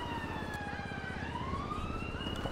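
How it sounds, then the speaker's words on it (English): Wailing ambulance sirens in the video game GTA 5, rising and falling electronic tones sounding continuously and fairly loud over a low rumbling engine bed. "Now I can hear the ambulances."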